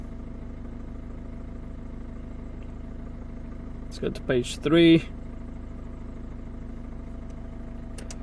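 A Volvo S40 1.6 diesel engine idles with a steady low hum throughout, even and unchanging, with a brief burst of talking partway through.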